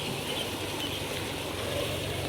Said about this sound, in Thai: บ้านติดริมถนนนี่น้ำซัดเข้าหมดอะ่ะคลื่นแรง